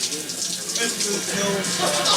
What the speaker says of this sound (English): It's the sink.